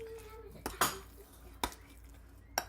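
Guacamole is stirred in a bowl with a metal utensil, giving a few distinct clinks and scrapes against the bowl spaced out over a quiet background.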